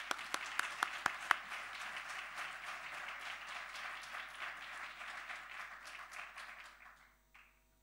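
A conference audience applauds in encouragement as a presenter takes the stage, opening with a few sharp close claps before dense, even clapping that fades out near the end.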